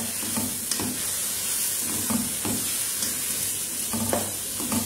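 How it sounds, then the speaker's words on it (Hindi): Desi chicken is sautéed with masala in a hot pan, giving a continuous close sizzle broken by regular scraping stirs every second or so. "इसे देसी मुर्ग के साथ हमने भूनना है"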